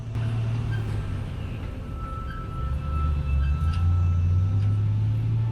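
Trucks drive along in the Roblox game Brookhaven RP, a steady low engine rumble and road drone that grows a little louder partway through, with faint higher tones above it and no talking.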